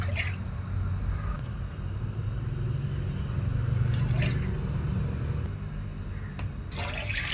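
Coconut milk, half a cup, is poured into a cooking pot while making nasi lemak, a low, steady liquid trickle and gurgle with a few light clinks of utensils, close and without talk.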